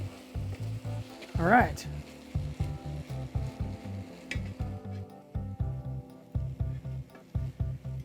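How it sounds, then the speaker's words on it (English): Food fries in a pan with a steady sizzle, broken up by repeated rhythmic stirring or scraping strokes; a person speaks briefly over the cooking. "So we don't want to be frying too much."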